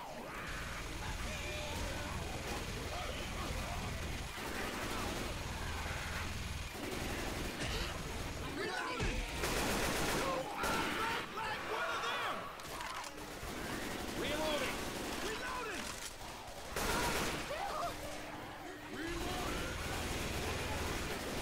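Gunfire in Left 4 Dead 2 rattles almost nonstop in rapid bursts, with the chaotic noise of a zombie fight mixed in and players talking over it.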